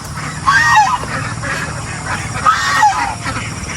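Ducks (itik) on a farm honk and quack in loud bursts close by, two clear calls separated by a pause, over a steady background hum with no talking.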